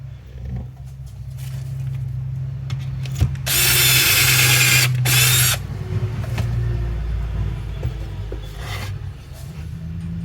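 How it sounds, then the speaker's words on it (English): A power drill bores holes into the base of jumbo wall hooks held in a jig, a low motor hum broken by a loud two-second whine of cutting, then a gap and quieter running, all close up. "Now I need to do the corresponding holes"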